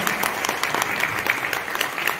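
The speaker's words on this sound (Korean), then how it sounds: "그럼 박수를 한번 좀 해주시고요" An audience in a multipurpose hall at an international training session in Gumi claps together, a lively crackling patter with distinct individual claps standing out, steady from start to finish.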